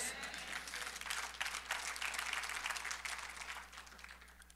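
A congregation applauds during a French-language sermon, a faint, distant patter of many hands building briefly then tapering off toward the end, over a steady low electrical hum.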